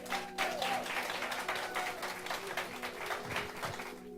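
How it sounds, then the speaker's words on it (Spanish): Audience applause at a bilingual Spanish-English church service, a sustained wash of many hands clapping at steady volume for the full length, with faint musical tones underneath. "Dale un fuerte aplauso a mi esposa"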